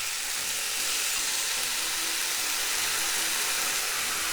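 Steady, bright sizzling of mushrooms frying in a pan, a dense unbroken hiss close by throughout with faint stirring underneath and no voices.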